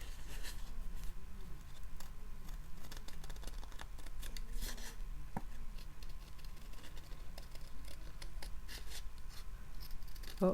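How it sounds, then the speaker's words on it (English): Scissors snip steadily through paper in short repeated cuts, with faint rustling as the sheet is turned, close and fairly quiet. "So if you just cut around, just going a little bit out from the edge, and move the paper as you go."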